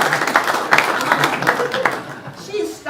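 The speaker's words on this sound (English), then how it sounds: "let's give this little star a round of applause" A crowd at a county school board meeting gives a short round of applause, scattered claps rising and thinning out over a few seconds. People talk over the clapping.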